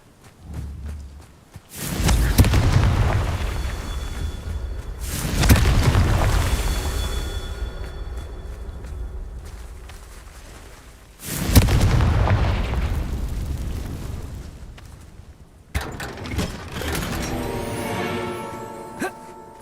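Confringo spell blasts in Hogwarts Legacy, four heavy booming explosions spaced several seconds apart, each with a long rumbling decay, loud and close, with brief spoken incantations in between.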